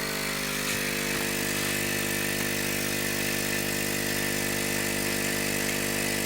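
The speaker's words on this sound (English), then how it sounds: "my air assist nozzle that I'm testing, and that has a 4mm hole, and that's just blowing onto some material" A Hailea ACO 318 45-watt air pump feeds a laser air assist nozzle with a 4 mm hole blowing onto material, producing a constant close hum with steady tonal buzz and airy hiss throughout.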